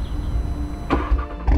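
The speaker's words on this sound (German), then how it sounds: "nur alleine, wenn der Wagen gestartet wird." A 560-horsepower Audi RS3 cranks and fires, a short mechanical whir and click giving way to a deep, loud engine rumble close by, with no talking.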